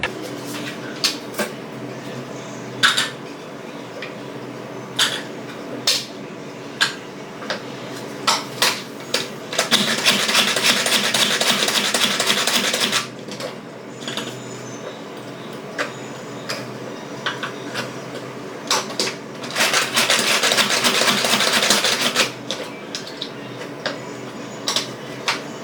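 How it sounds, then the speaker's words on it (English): Onions being chopped with a manual vegetable chopper in a home kitchen, a series of sharp plastic clicks and taps in irregular rhythm, broken by two longer rattling bursts, close and fairly quiet with no talk. "So I've used this vegetable chopper to kind of chop my onions."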